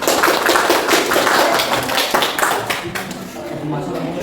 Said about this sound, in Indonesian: Beri tepuk tangan buat kelompok 2 yang sudah mempresentasikan.